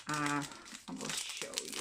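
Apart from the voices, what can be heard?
crinkling packaging of craft box being handled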